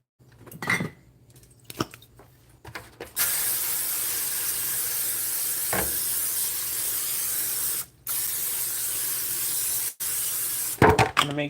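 Cooking spray hisses onto a pan in a long continuous burst, cut by a few brief pauses, after scattered clinks of kitchen utensils and dishes at the start; close and loud, with no talk.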